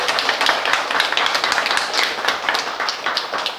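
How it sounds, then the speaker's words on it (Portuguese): Audience applause at a thank-you ceremony honoring a president and a councilwoman: dense, steady clapping from a crowd, fairly close and sustained with no voices over it. "quero uma salva de palmas para todas as gente"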